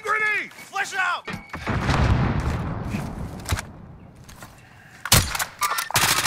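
A grenade blast in Call of Duty: Modern Warfare, a broad rumbling burst that dominates for a couple of seconds and then decays, followed later by sharp gunshot cracks, with voices talking over the action.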